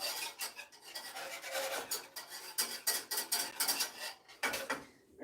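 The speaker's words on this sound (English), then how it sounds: "Stir. Keep stirring." Metal whisk scraping and stirring a thickening cream filling in a pot, rapid rasping strokes in quick bursts with brief pauses, close and clear, no voices.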